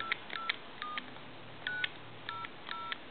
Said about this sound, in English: I'm going to go ahead and dial a number here